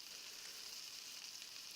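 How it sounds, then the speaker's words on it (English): Chicken nuggets frying in a Palworld cooking pot, a faint, steady crackling sizzle with no other sounds, short and even throughout. "Just frying up some chicken nuggets in there."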